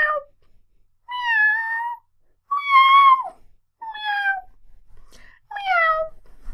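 A voice imitates a cat, giving five drawn-out meows with short pauses between them, clear and close with no other sound behind.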